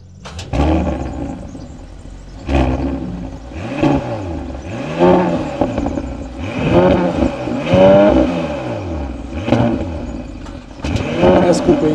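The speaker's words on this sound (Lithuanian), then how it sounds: "tai yra V6 variklis, tai kai paspaudė akceleratorių, tai jau tik, kad automobilis važiuoja" Audi SQ5 V6 engine in Dynamic mode revving hard while accelerating, a loud throaty roar rising and falling in repeated surges, with voices talking over it.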